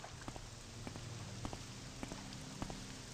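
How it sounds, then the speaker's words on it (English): Steady rain falling on water in the video game Morrowind at the town of Seyda Neen: a soft, constant hiss with scattered sharper drop ticks every half second or so, fairly quiet and with no voices. "It's raining. I like the ripple effects and the nice water from the graphical pack I use."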